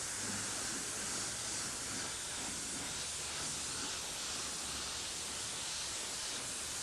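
Spray gun hissing steadily as it lays light coats of purple paint onto a custom motorcycle helmet in a paint shop, a continuous broadband spray with no pauses, fairly close.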